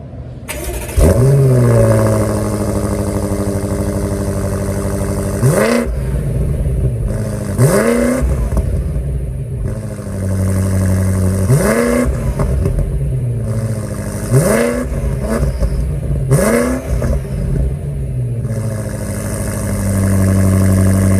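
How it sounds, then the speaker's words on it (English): A BMW M8 Gran Coupe revs repeatedly at the rear, its exhaust note rising in sharp, loud blips roughly every two to three seconds over a steady idle. "we'll kind of get a little bit of a note there from the exhaust"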